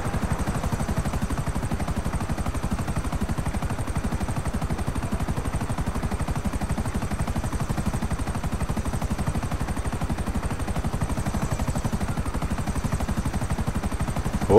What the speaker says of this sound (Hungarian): De mi ez a helikopter?